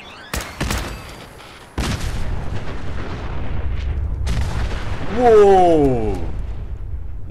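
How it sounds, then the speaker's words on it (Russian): Explosions in the video game Fallout 4: sharp booms and blasts burst out one after another with crackling debris and a long rumbling tail, loud and close, while a man briefly exclaims over the noise. "обожаю Fallout из-за этих красивейших взрывов"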